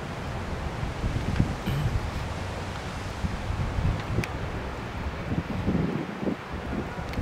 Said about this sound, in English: See the effect of the wind, it's just blowing across the infield.